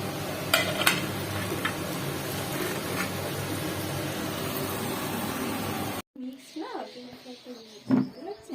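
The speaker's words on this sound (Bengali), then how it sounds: "এখানে হচ্ছে ভাজাটা করে রাখছি, গাজর, বিট, আলু" Carrots, beetroot and potatoes fry with a dense crackling sizzle and occasional sharp stirring clicks for several seconds, then the sound cuts abruptly to a quieter scene with voice-like sounds and a louder bump.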